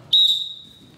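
A coach's whistle during a wrestling sprawl drill, one sharp piercing blast that starts abruptly and tapers off over most of a second, with faint room noise around it.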